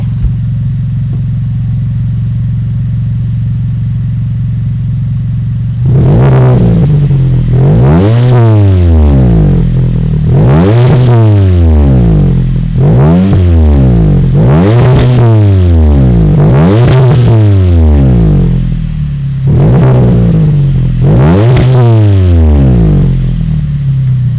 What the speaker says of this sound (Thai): เดี๋ยวเราไปฟังเสียงท่อกันดีกว่า